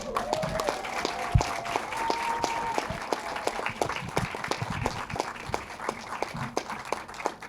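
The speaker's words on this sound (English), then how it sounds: "Please give a big round of applause for the writer and director of the movie" An audience applauds a film's writer and director at a screening Q&A, with steady sustained clapping from a crowd filling the room throughout, with no talk over it.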